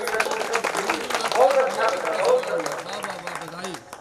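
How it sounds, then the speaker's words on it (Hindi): Audience at a Hindi poetry recital on the Ramayana breaking into scattered clapping that builds into a steady round of applause, with a voice speaking over it throughout. "एक बार ताली बजाइए"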